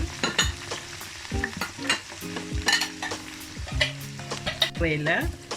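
Red and green peppers with onion fry in a pan for chilli paneer, heard as close crackling sizzle with clattering utensil knocks and scraping stirs in an uneven rhythm, with no talk.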